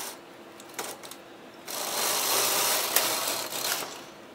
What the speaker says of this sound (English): I'm simply going to knit slowly across for the first row of the hem.